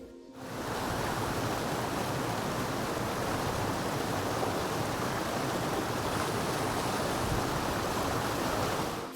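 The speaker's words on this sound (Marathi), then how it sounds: "कसं काय धबधबा आहे" A waterfall at Malshej Ghat in the monsoon roars loudly and steadily, a dense unbroken rush of falling water with no other sounds.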